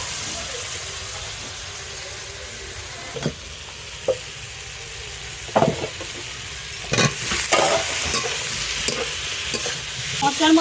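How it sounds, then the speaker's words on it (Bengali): Pieces of boiled taro fry in a spiced masala in a pan while a spoon stirs them. A loud, continuous sizzle runs throughout, broken by scraping stirs and clatters that grow busier toward the end. "এবার আমি এখান থেকে কচুগুলোকে তুলে তুলে এর মধ্যে একটু কষিয়ে নেবো"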